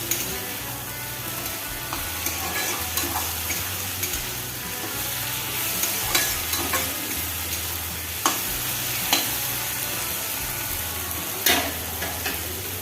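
Fiddlehead fern (dhekia) stir-frying in a pan, continuous moderate sizzle broken by repeated sharp spatula scrapes and clinks, close by with no talking.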